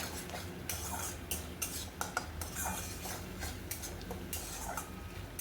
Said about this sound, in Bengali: এখানে ভালো করে কষিয়ে নিতে হবে